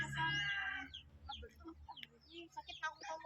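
Chickens cluck and squawk close by, a rooster-like call up front, followed by scattered softer clucks.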